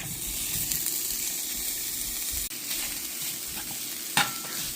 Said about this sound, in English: in the hot pan, you don't need to put oil. You want to add the sausage